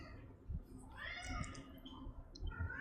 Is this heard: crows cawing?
no